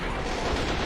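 Artillery gun in the WW2 game Men of War: Assault, a continuous dense rumble of firing and battle noise, loud and steady for a second with no voices over it.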